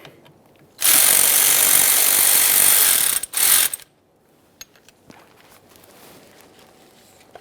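A power tool spins out a bolt on a Jeep Grand Cherokee air suspension compressor bracket in one loud whirring burst of about three seconds with a brief stop partway. Quiet metallic clicks and handling sounds follow.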